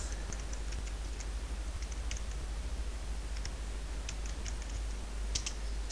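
Computer keyboard typing while writing bullet points in a document, light scattered key clicks over a steady low hum, soft and fairly close.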